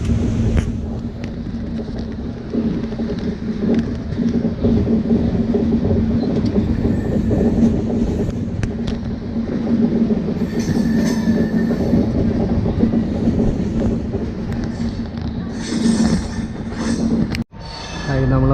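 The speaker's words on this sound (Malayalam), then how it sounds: "ട്രെയിനിപ്പോൾ സ്റ്റേഷനിലേക്ക് കയറിക്കൊണ്ടിരിക്കുകയാണ്." A passenger train rolls into Coimbatore railway station, its loud steady rumble and wheel clatter heard from on board, with faint wheel squeal and a sharp thump near the end.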